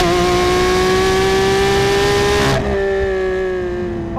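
A Lamborghini Aventador SVJ's V12 engine revs hard and loud at close range, its pitch climbing in a sustained howl. It breaks briefly with a gear change, then rises again.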